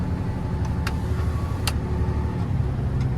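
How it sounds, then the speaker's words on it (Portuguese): A heavily loaded truck creeps slowly downhill on a rural track while collecting wood for a 27-metre bonfire, its engine a steady low rumble that fills the clip, with a few brief clicks and knocks on top. "Descer devagarzinho, o caminhão tá pesado."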